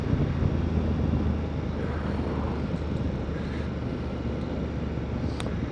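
A BMW F850GS Adventure motorcycle runs at speed, its steady engine drone blended with heavy wind rush against the rider's microphone, continuous and loud with no talking.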